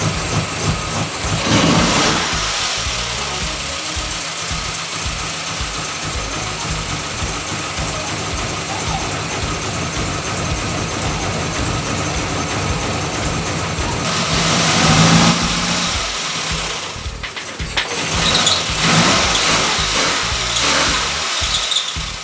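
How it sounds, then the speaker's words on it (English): A cold car engine warms up and idles roughly, a continuous uneven mechanical drone with a few louder surges and squealing bursts, close and running alone. "Still warming up, it's a bit cold still, so it's not idling very well."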